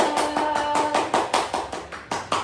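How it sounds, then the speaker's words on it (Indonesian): A classroom of students clapping for a student group after a presentation, about a dozen distinct, evenly spaced claps in quick rhythm, loud and close. "Tepuk tangan untuk kelompok Google."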